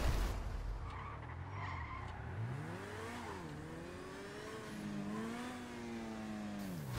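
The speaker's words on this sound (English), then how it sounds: "just drive out of the Titan and try spinning your car as much as you can" Car spinning and skidding in the video game GTA Online, with long wavering tire squeals rising and falling over a revving engine, continuous and fairly close.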